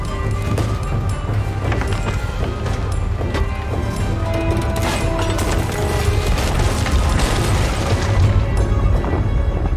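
Cannon blasts and explosions boom repeatedly during a Sea of Thieves naval battle, layered over dense game noise, creaking mechanisms and continuous background rumble.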